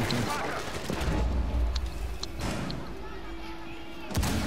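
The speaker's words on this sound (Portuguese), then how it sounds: "Atirando granada" A grenade explosion in Rainbow Six Siege booms amid dense, rumbling gunfire and impacts, loud and continuous, with a sharp burst near the end.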